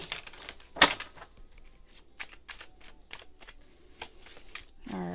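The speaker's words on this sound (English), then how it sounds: "I'm gonna pull some cards and tell you what I see." Tarot cards pulled from a deck and shuffled, a quick run of close, crisp slaps and riffles with one sharper snap early on, quiet between bursts.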